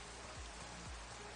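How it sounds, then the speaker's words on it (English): Rain in a video game falls as a steady, even hiss of drops on surfaces, a constant wash with a couple of soft low thumps underneath and no voices. "The rain is making everything way too slow."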